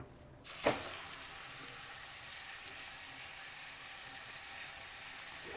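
Grated sweet pumpkin roasts in ghee in a pan, a soft, steady sizzle and hiss that starts after a brief clatter and continues evenly to the end.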